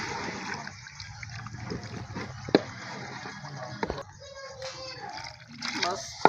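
Water poured into a simmering pot of goat tripe gravy, giving a soft trickling, splashing pour that runs through most of the stretch, with someone speaking over it in a village kitchen.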